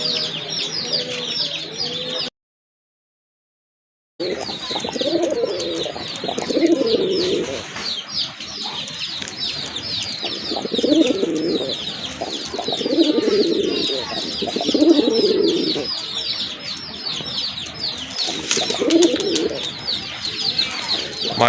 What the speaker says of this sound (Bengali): আরেক জোড়া কবুতর অনেক বড় সাইজের, হোয়াইট কালারের ভিতরে এক জোড়া দেশি কবুতর।